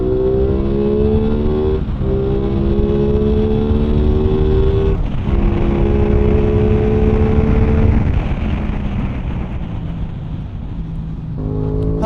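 An Aprilia Tuono 660 motorcycle accelerating, its engine note a steady loud drone with harmonics climbing in pitch through gear pulls, with short dips between shifts and a brief lull near the end before the tone rises again.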